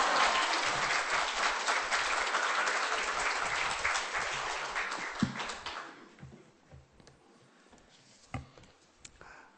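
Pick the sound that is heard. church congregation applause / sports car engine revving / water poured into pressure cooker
church congregation applause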